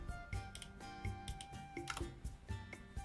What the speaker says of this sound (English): I'm typing it out right now for the chat.